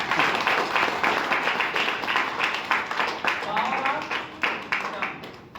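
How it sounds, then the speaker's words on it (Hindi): An audience at a direct-selling training session claps steadily all the way through, a dense patter of hands with voices mixed in underneath. "ताली तो अपने लिए बजा लीजिए।"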